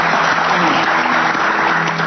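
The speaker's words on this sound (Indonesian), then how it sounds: "Saya minta tepuk tangannya untuk tamu-tamu saya yang luar biasa" A studio audience at an Islamic religious talk show applauds the guests, a loud, dense, sustained clapping with a faint background hum underneath, steady from start to finish.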